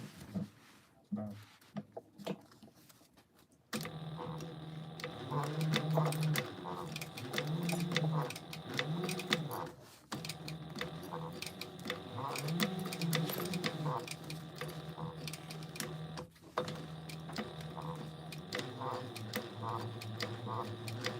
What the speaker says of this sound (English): I'm gonna stay stitch this on there